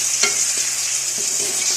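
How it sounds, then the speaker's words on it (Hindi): Chicken pieces frying in hot oil with onions, a steady broadband sizzle carried under a few soft scrapes of a spoon stirring through the pan, close and continuous with no voices. "इसको हम फ्राई करेंगे चिकन को बहुत अच्छी तरह से"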